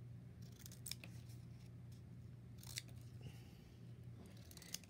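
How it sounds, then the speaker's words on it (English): Scissors snip strips of material for a Kon-Tiki embellishment craft, with a few faint, crisp cuts spaced a second or two apart over a quiet background hum. "we're just going to cut a bunch of strips like this"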